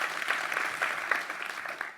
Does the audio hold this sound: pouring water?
no